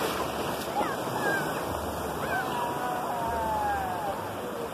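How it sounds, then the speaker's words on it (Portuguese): Ocean surf on a beach at Ubatuba, Brazil, where a wave rolls in and breaks as a loud, continuous wash of churning water. People speak over it. "Tá vindo uma onda. De longe. E vai quebrar em mim."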